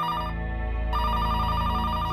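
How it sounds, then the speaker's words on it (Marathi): A telephone rings steadily and loudly with an electronic tone, no voices, a brief shift in the tone partway through. "या फोनला सुद्धा आताच वाजायचं होतं का?"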